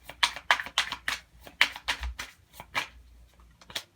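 Tarot cards being shuffled by hand in a series of crisp, riffling bursts, about a dozen quick flutters in an uneven rhythm, close and clear with no talking.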